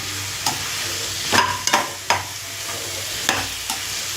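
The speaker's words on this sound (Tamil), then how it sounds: "எண்ணெய் கத்திரிக்காய் குழம்பு நல்லா கொதிச்சிட்ருக்கு" A pan of oily whole-eggplant kuzhambu simmers vigorously, with scattered pops and plops of bursting bubbles over a faint, steady low hum.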